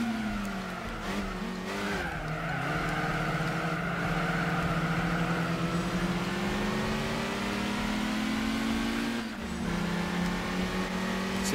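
Race car engines in the video game Gran Turismo 4 during a spider and roadster race with a Toyota MR2 Spyder and Lotus Elise, a continuous rising and falling engine whine with brief tire squeals.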